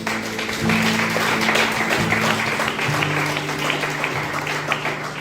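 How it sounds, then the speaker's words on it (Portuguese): Applause from a church congregation during a Portuguese-language sermon: a continuous, fairly loud wash of clapping, with a low sustained hum running underneath throughout. "Aplaude Jesus."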